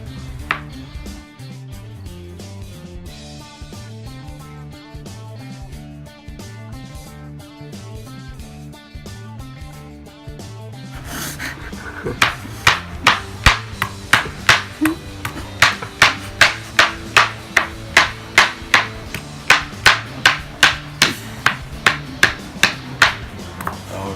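A knife mincing ginger on a cutting board for a Korean BBQ marinade, with quiet background music first and then a steady run of sharp, evenly spaced chopping taps, close and fairly loud.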